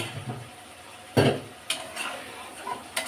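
Dried fish with eggplant and potato is stir-fried in a pan, with a soft background sizzle broken by a sharp utensil clatter and a few lighter scraping knocks against the pan.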